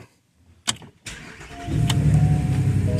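A Porsche Cayenne engine starting with a new key: a click and brief crank, then the engine catches and settles into a steady, throaty idle.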